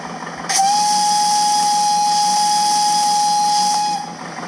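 Steam whistle of a PKP OK1 steam locomotive in a train simulator game, one long steady shrill blast held for about three and a half seconds, loud and close, with a hiss underneath.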